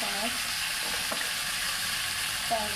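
Diced potatoes fry in a pan as the first step of a potato, onion and egg chowmein, a steady close sizzle running throughout with a couple of soft stirring scrapes and no talk.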